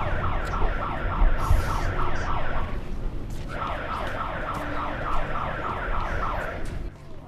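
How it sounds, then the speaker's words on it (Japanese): A loud emergency drill siren in Sapporo wails, rising and falling in repeated cycles, briefly dropping out midway before resuming, with steady background noise underneath. "訓練のサイレンが鳴り、"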